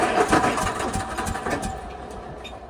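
An old loader tractor's engine cranks and catches, chugging with uneven rhythmic pulses that gradually settle and fade slightly.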